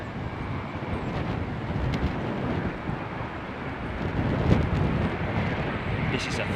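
Airbus A330-900 airliner arriving at Heathrow in strong wind, a broad low roar with heavy gusting wind buffeting the microphone, swelling midway, with a voice talking faintly underneath.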